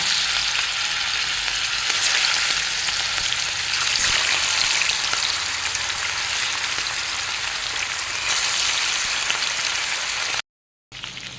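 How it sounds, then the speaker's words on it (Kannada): Chicken pieces fry in hot oil, giving a loud, steady, dense sizzle with a bright crackle throughout. It runs unbroken for about ten seconds, then cuts out briefly and returns softly at the end. "ಈಗ ಎಣ್ಣೆ ಬಿಸಿ ಆಗ್ತಾ ಬಂದಿದೆ. ಒಂದೊಂದೇ ಪೀಸ್ ಹಾಕ್ಕೊಳ್ಳುವ."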